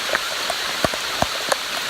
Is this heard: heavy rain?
yes